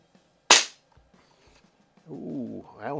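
A Daisy 753 single stroke pneumatic .177 target rifle fires a single sharp, close crack, followed by near silence and then brief wavering vocal sounds.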